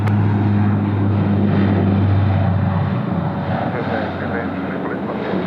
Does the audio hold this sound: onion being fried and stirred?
no